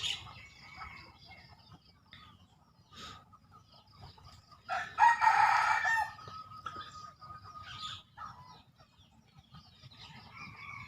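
Chickens cluck and a rooster crows loudly near the middle, with scattered bird calls, ducks nearby and soft farmyard ambience under an overcast morning sky.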